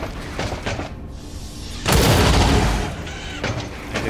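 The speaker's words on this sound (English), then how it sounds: "Now let's do a rapid fire" Booming gunfire bursts from a rapid fire shot in the turn-based strategy game XCOM 2: War of the Chosen, with a heavy sustained blast in the middle and smaller crackling shots around it.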